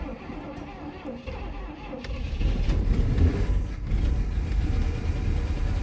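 A 1965 Pontiac Grand Prix 389 V8, a barn find that sat for over 25 years, sputters and then catches, its engine settling into a rough, rising idle that runs on steadily after the start.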